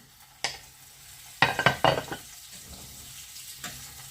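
A little oil with about 50 grams of butter hits a frying pan, giving sharp crackling sizzle bursts with some stirring clatter, close and fairly quiet between the bursts.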